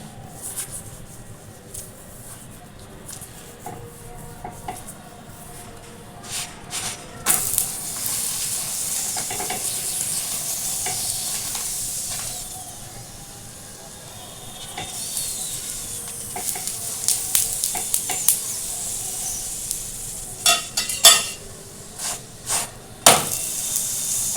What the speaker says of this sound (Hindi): अब हम पराठे में तेल लगाएंगे।